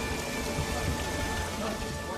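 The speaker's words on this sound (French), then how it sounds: "L'orage était très violent." Heavy rain pouring down during a violent thunderstorm, a dense constant hiss of downpour with a low rumbling undertone, steady throughout with no clear voices.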